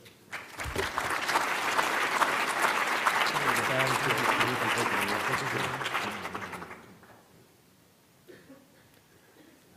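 Audience in an auditorium at a medical academy's annual meeting applauds to welcome a speaker, a loud, dense burst of many clapping hands lasting several seconds, then fading out into quiet room tone.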